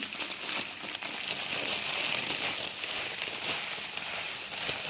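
A half-kilo plastic bag of sugar crinkles and rustles steadily up close while orange juice is being made, a continuous crackly handling sound with no talk.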